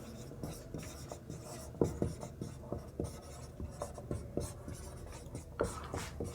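Pen or chalk writing out a percentage math problem, a quick run of close, scratchy strokes and taps with short pauses, steady and fairly quiet, with no talking.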